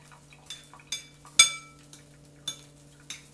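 A spoon clinks and scrapes around a bowl while mixing a lemon juice mixture for a wedge salad dressing, with several light, irregular taps and one brighter clink.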